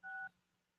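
A short telephone keypad tone, one clear dual-pitched DTMF beep pressed on a phone during a conference call, followed by a faint background hum.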